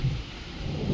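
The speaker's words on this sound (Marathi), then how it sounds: "वा पूर्ण आभाळ आले बाहेर आणि खूप पाऊस पडतो." Heavy rain falls outside as a faint, steady broadband hiss with a low rumble, heard alone for about a second.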